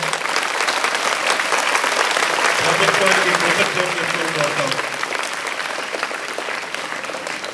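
A large audience at a public government event applauds loudly, dense sustained clapping filling the space while a speaker's voice carries over the top through amplification.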